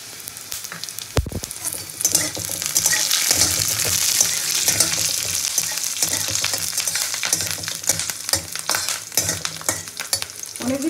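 Black cumin, garlic, dried chillies and slit green chillies fry in hot oil, producing a continuous loud sizzle and crackle with scattered sharp pops, close up, and one low thump near the start.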